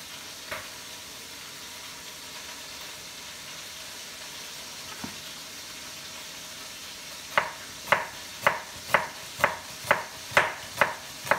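Onions being sliced into thin strips with a knife for Senegalese chicken yassa: a steady run of sharp, evenly spaced cuts near the close, preceded by a couple of isolated taps over a quiet kitchen background.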